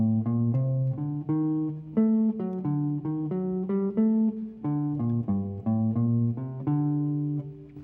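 A clean-toned jazz guitar plays an unaccompanied single-note phrase that steps down a triad and then climbs a mode. The notes are evenly spaced, bright and close, and the line closes on a sustained note.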